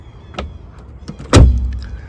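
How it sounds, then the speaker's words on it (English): A Mercedes-Benz W123 Turbo Diesel door swings shut with one solid, heavy thud and latch clunk, close to the listener, preceded by a faint click as the door moves. "Listen to the way this door closes."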